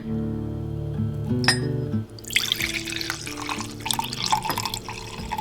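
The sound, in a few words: pouring tonic liquid into a cup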